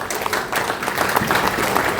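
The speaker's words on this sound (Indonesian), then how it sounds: "Sekali lagi berikan tepuk tangan yang meriah." A congregation at a Christmas church service claps in a continuous, fairly close wash of applause, with no voices standing out.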